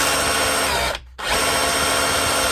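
A repaired DeWalt rotary hammer drill running in hammer mode gives a loud, dense, continuous rattling drone, cutting out briefly near the middle before starting up again at full strength.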